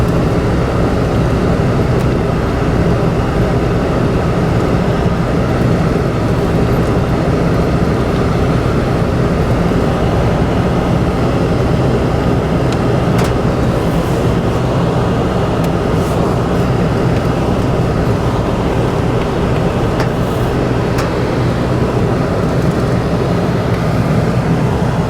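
A car driving along a winding mountain road in Little Switzerland gives a loud, steady engine and road rumble with wind noise that runs throughout without letup.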